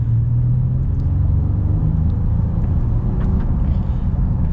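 A 2025 Honda Ridgeline's naturally aspirated V6 engine drones and rumbles steadily as it accelerates, heard from inside the cabin with a low, continuous hum.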